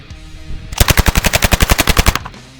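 A PM63 machine pistol fires one rapid full-auto burst of about fifteen shots in under a second and a half, loud, close and evenly rhythmic, with no talking.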